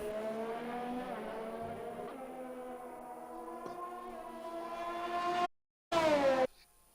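Formula 1 car engines in a racing video game at the China circuit whine loudly and steadily, rising in pitch, with a brief cut to silence before the roar returns and then drops away.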